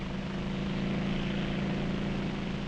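Vintage helicopter from the early 1950s, its rotor and engine giving a steady, dense drone that holds at an even loudness throughout, with no voices.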